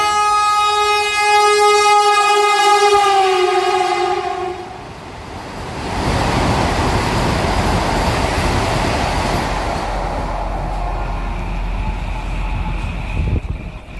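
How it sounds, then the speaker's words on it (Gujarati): A Vande Bharat express train arrives at night at Mithapur railway station, its horn sounding loudly for several seconds before the rush of the train speeding through, a steady close roar that continues to the end. "વંદે ભારત ટ્રેન આવી રહી છે મિત્રો વંદે ભારત ટ્રેન"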